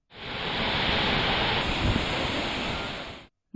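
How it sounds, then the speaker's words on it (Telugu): Mahaludda waterfall, the highest waterfall in the state, roars in a dense, loud, unbroken rush of cascading water that fades out only at the very end. "మహాలుద్ద జలపాతం గురించి ఇంకెంత వర్ణించినా తక్కువే ఇది రాష్ట్రంలో అత్యంత ఎత్తైన జలపాతం"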